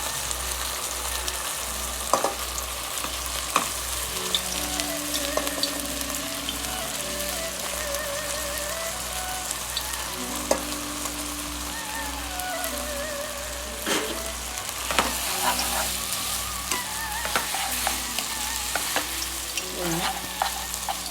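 Boiled noodles with salt and butter powder are sautéed for a Chinese vegetable sizzler: a loud, constant hiss of frying runs throughout, punctuated by occasional clatters of a utensil stirring and tossing against the pan, with a low steady hum underneath.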